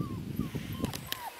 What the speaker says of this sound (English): Doggy howling.